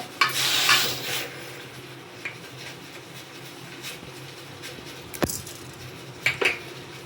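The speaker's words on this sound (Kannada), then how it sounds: "ಇದು ಎಣ್ಣೆ ಕಾದಿದೆ. ಈ ಹೊತ್ತಿನಲ್ಲಿ ನಾವು ಉದ್ದಿನಬೇಳೆ ಹಾಕ್ಕೊಳ್ತಾ ಇದ್ದೇನೆ" Urad dal drops into hot oil in a pan for a palak stir-fry, a brief crackling burst at the start fading to a low sizzle, then a few sharp metal ladle clinks against the pan.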